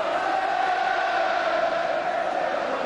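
Arsenal supporters filling a football stadium, a steady dense roar of crowd noise that holds at an even level throughout with no single voice standing out.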